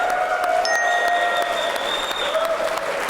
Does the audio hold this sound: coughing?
no